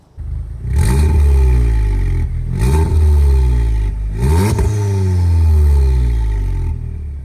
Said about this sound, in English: this exhaust just sounds absolutely fantastic